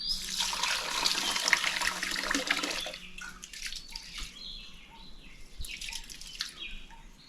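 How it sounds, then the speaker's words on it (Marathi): Rice being rinsed by hand in water while soaking grains for Konkan-style amboli batter: loud, close splashing and swishing for about three seconds, then quieter sloshing with faint birdsong in the background. "स्वच्छ अगदी दोन तीन वेळा असे धुवून घ्यायचे"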